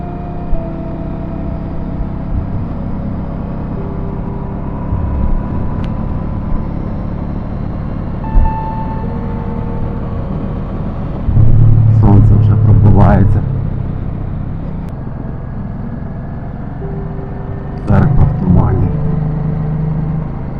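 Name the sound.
Honda Shadow 1986 motorcycle riding along a road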